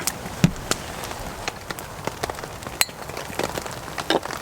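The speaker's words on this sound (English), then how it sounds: "The little pitter patter on the tarp is quite comforting." Light rain at a December wild camp pattering on a tarp, scattered soft drops landing irregularly and close by over a quiet background.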